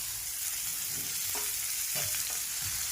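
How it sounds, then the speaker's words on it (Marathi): Onion, garlic, ginger and tomatoes sautéing in a pan, a steady close sizzle with a few soft scrapes and clicks of a stirring spoon. "आणि हे छान मऊ होईपर्यंत परतून घ्यायचे"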